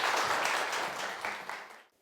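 Audience of parents at a picture-book and child-development lecture applauds a visiting professor, a soft, fairly distant round of clapping that tapers off and stops near the end.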